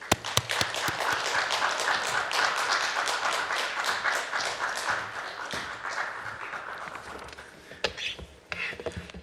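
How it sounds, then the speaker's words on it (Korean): A church audience at a lecture claps to welcome a professor, a dense burst of applause that stays strong for several seconds, then thins out with scattered claps near the end while voices are faintly present. "우리 김선일 교수님 나오실 때 우리 박수로 환영하도록 하겠습니다"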